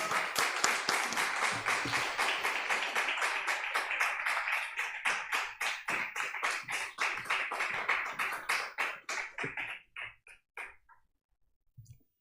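A church congregation at a Sunday worship service claps to welcome the pastor, at first a full crowd of hands, then thinning into fewer, more distinct individual claps before dying away near the end.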